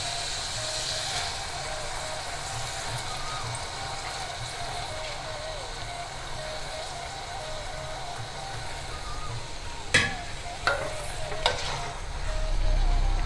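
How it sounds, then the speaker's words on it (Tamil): Cut eggplant sautéing with spices in a pan for kathrikai mochai kuzhambu, a steady hissing sizzle close by, then a few sharp clatters of a spoon against the pan near the end. "கத்திரிக்காய் வந்து கட் பண்ணி வச்சுருக்கேன், அதையும் சேர்த்துட்றேன். எல்லாம் சேர்ந்து நல்லா வதங்கட்டும்."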